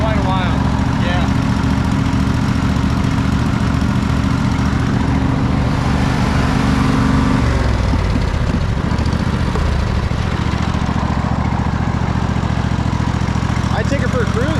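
A Cub Cadet GT 1554 lawn tractor that has sat unused for a while runs steadily close by, its engine a continuous rumbling drone throughout, with a shift in tone partway through.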